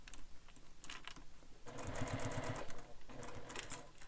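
A sewing machine stitches a fabric bag in short bursts, a quick mechanical whirring rattle that speeds up in the middle and then eases, close and fairly quiet with no talk.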